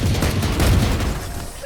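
Gunfire and booming impacts in a Valorant tournament match, a loud, dense burst of rumbling shots that fades slightly toward the end.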